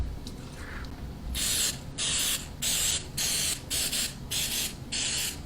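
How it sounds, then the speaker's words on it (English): Coconut nonstick cooking spray sprayed from a can in short repeated bursts, about six loud hissing puffs separated by brief pauses, close and clear. "just a little bit of nonstick spray, and I use the coconut spray"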